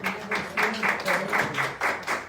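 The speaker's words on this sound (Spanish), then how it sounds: "Vamos a dar un aplauso al Señor." Congregation in a Spanish-language Sunday church service clapping in a steady rhythmic beat, about four claps per second, close and moderately loud with no talk over it.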